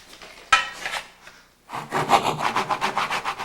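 Handsaw undercutting a wooden door frame casing while resting on an upside-down loose plank of flooring, a short scrape followed by a run of rhythmic back-and-forth rasping strokes, close and clear.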